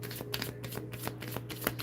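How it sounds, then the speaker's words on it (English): A deck of tarot cards is shuffled by hand, quick soft riffling and shuffling strokes in a close, quiet room, with no voice over them. "Let's shuffle and see what's up."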